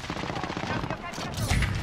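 Rapid automatic gunfire rattles in a Call of Duty Modern Warfare match on the Euphrates Bridge map, dense bursts of shots overlapping with game voice callouts and other battle noise.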